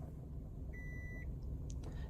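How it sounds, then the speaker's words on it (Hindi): A Maruti Suzuki car gives a single electronic beep when reverse gear is engaged. One short, clean tone sounds over a quiet, steady low engine idle rumble, with no speech. "एक सिंगल बीप की आवाज आई।"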